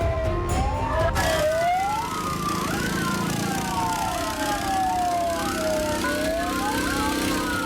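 A fire engine siren wails continuously, rising and falling in overlapping sweeps as emergency vehicles arrive at a burning workshop and shophouse, loud and fairly near over a rumbling street background.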